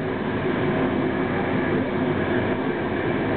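Eurocity train running through Austria near Linz, a steady, loud rumble of wheels and carriage noise heard from inside, continuous with no voices.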